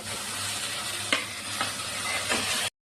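Sea fish dropped into a simmering oily tamarind gravy for a home-style fish curry, giving a steady close sizzle and hiss with a few soft splashy stirs before it cuts off abruptly.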